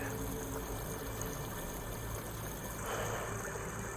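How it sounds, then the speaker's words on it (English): Water pours in during a cutscene in Horizon Forbidden West, a steady rushing, trickling flow that swells a little louder near the end, heard alone without talk. "Water's coming in."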